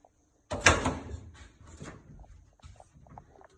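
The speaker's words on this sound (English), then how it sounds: "The door won't open all the way. It's hitting into the wall." During a house inspection, a door swings open and knocks into the wall with a sharp, loud bang, followed by a rattling tail and a few softer knocks as it settles, with no voices.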